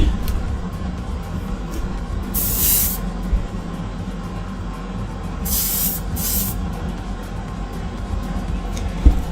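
An airbrush sprays white primer onto Greek-style vases in two short bursts of bright hiss, the second splitting into two quick puffs, over a steady low background hum.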